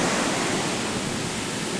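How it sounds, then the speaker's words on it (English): Ocean waves breaking at a Los Angeles beach, a steady broad wash of surf close by, continuous and fairly loud with no talk. "look at those waves coming at me"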